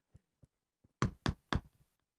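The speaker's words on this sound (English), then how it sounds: "Hold on. I hear the door." Someone knocks on a door: a few faint light taps, then three loud, evenly spaced heavy knocks close by.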